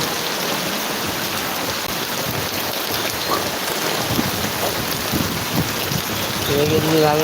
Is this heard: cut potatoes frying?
no